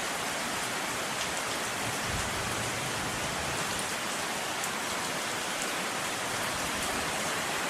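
Heavy rain pours during an early-morning storm by a harbor on the south coast of Central Sulawesi, a dense, steady, loud hiss that continues unbroken throughout, with no voices.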